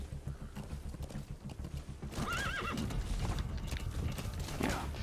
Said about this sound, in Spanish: Mal se coloca el caballo.